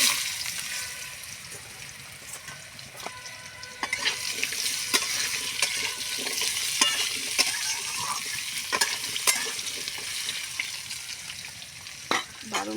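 Potatoes frying in hot spiced oil with cumin in a home kitchen pan: steady loud sizzle with repeated scraping clicks of a spatula stirring, close and continuous, no talk.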